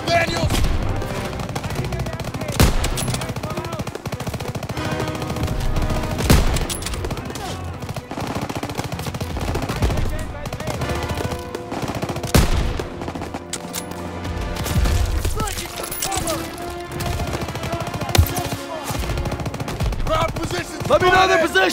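Call of Duty WW2 battle gunfire: dense, near-constant rifle and machine-gun bursts with sharp cracks and booms, loud and close, over a background of game music.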